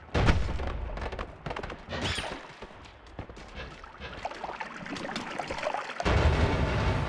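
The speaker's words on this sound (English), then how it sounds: "A lot of bombs focused down there." Bombs explode in the pixel-physics video game Noita, a scattered run of muffled booms and crackling thuds with debris-like rattling throughout, fairly quiet and continuous, ending in a louder low rumble.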